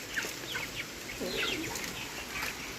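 Chickens and guinea fowl clucking and calling in short bursts over an outdoor background, moderately distant, with no talking.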